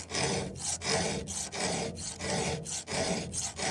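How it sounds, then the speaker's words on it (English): A hand file rasping along the teeth of a chainsaw chain during sharpening: about seven regular back-and-forth strokes, close and loud, each a harsh scraping rasp with brief gaps between, no talking. "You have to stay up on the file, right?"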